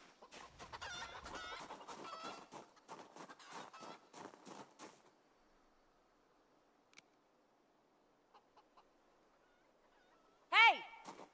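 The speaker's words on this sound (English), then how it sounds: "They should have been drawn outside by the sound of the chickens" Chickens in the video game Project Zomboid cluck in a rapid, busy burst, go quiet for several seconds with only faint sparse notes, then one loud squawk or crow rings out near the end.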